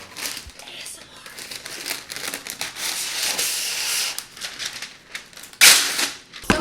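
Parchment paper crinkles and rustles continuously up close, with a sharp loud tearing burst near the end, while people speak quietly in a kitchen.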